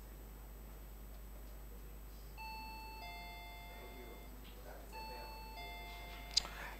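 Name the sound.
quiz bell rung by a school team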